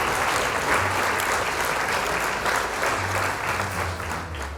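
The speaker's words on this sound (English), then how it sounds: "This is applause." A crowd claps steadily and densely at moderate loudness, a sustained wash of applause with some whoops mixed in.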